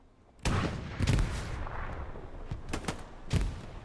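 Explosions and gunfire in the World War II shooter Hell Let Loose during a competitive match, with a sharp blast followed by scattered booming shots and further cracks, loud and fairly close.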